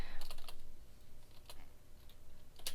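A computer keyboard typing a formula into an Excel spreadsheet. Quick, close clusters of light keystrokes come in short bursts over a few seconds.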